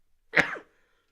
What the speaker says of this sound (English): I might sneeze.